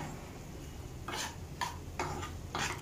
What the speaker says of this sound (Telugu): దానిలో వేయించిన పన్నీర్ క్యూబ్స్ని ఆ గ్రేవీలో మిక్స్ చేయడమే.